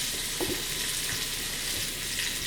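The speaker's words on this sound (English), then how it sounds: "let's see if it sizzles" Steady, hissing sizzle of halved onions frying cut side down in a hot Instant Pot, continuous and fairly close, with a few faint clinks.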